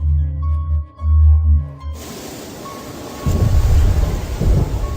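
Deep rolling thunder booms in the opening seconds, then heavy rain takes over as a dense, loud hiss that swells even heavier toward the end, with no voices.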